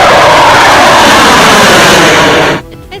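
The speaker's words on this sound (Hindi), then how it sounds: "सबसे पहले एक सुखोई फाइटर जेट तेजी से उड़ते हुए आया और एक्सप्रेसवे को चूम कर निकल गया।" A Sukhoi fighter jet flies low and fast over an expressway, producing a loud, continuous roaring rush that fills the clip and then cuts away sharply near the end.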